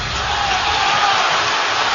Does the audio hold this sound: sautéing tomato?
no